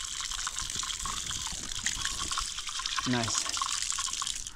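Tap water runs steadily in a kitchen, a continuous broad hiss of flowing water with a brief gurgling change near the end, while people talk over it.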